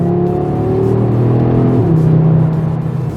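Audi RS3 driving: a loud, close engine drone with rising revs that shifts and drops partway through, then settles into a steady hum.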